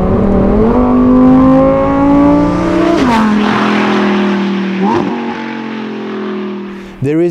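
Loud, close engine of a Lamborghini Huracan STO accelerating hard through the gears, the tone climbing steadily then dropping sharply at each shift, with a final sharp burst at the end.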